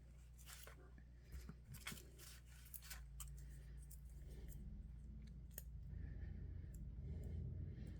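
Scissors trim small paper pieces for a bird-themed journal page, giving a run of crisp close snips and rustles early on, then quieter paper handling.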